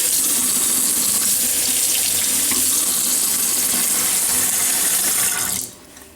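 Tap water runs steadily and loudly into a 16-ounce bottle, a continuous rushing splash that cuts off abruptly near the end.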